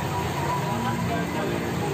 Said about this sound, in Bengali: ট্রেন নির্ধারিত সময়ে যাত্রা স্টেশন ছেড়ে যায়।